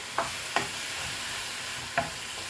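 Native chicken sizzles steadily in a hot pan with pepper and salt as a utensil stirs it, with a few sharp scraping clicks over the continuous frying hiss.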